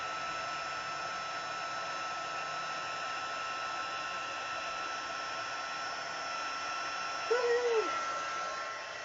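A craft heat tool blows hot air under a stamped card, a steady close whooshing hum held throughout with a faint brief whine near the end.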